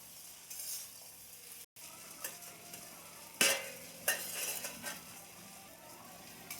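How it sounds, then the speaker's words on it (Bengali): Fried crabs are stirred in a pan, giving a soft background sizzle broken by a few sharp metal scrapes and clinks of a spoon against the pan, close but fairly quiet. "ভাজা কাঁকড়াগুলো দিয়ে দেবো কাঁকড়া দিয়ে খুব ভালোভাবে নেড়ে দেবো"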